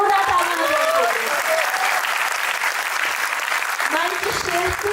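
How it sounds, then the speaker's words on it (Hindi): Strong applause from a theatre audience during the closing credits of a Hindi stage play, loud and sustained throughout, while a voice speaks over the clapping near the start and again toward the end. "एक बार जोरदार तालियां बजाइए।"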